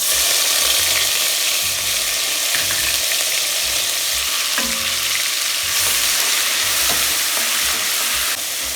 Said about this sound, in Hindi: अब मैंने डाली है इसमें थोड़ी सी हींग